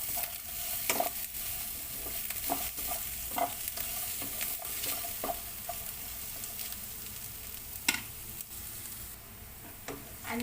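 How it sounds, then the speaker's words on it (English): Garlic sautéing in a pan for a Filipino pork and chicken adobo, a steady close sizzle broken by scattered clicks and scrapes of stirring, with no voices. "now we can put our garlic and just saute for another 1 minute"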